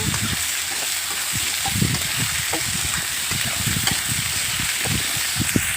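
Ground spices and chilli frying in oil in a pan for a potato and fish curry, a steady close hiss and sizzle with repeated scraping stirs throughout.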